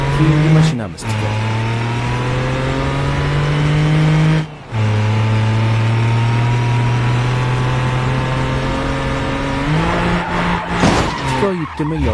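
A Daewoo Tico in BeamNG.drive drones along with a steady, buzzing engine note that drops and climbs again at each of a couple of gear shifts, loud and close throughout.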